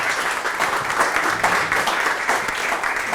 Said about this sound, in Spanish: Nos damos un fuerte aplauso para que eso se encienda.